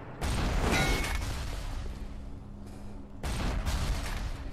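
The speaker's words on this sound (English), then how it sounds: "Someone is shooting a rocket launcher up in this joint." A rocket launcher fires in a PS4 video game, giving loud booming blasts at the start and again near the end with a lower rumble in between, and no talk over it.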